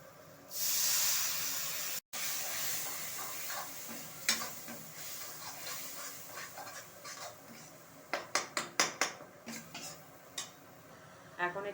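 Homemade vegetarian spice masala and ground coriander sizzling in a pan for a soybean dish after a little water is added, a loud steamy hiss at first, then scattered crackles and sharp stirring clicks alone.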